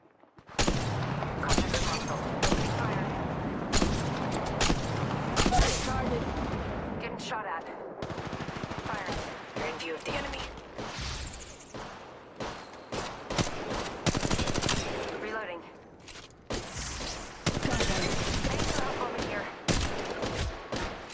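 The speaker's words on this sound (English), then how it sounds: "Getting shot at." Apex Legends Mobile gunfight with repeated bursts of automatic gunfire and single shots, loud and dense with brief pauses, plus cracking and shattering impacts and game voice callouts mixed in.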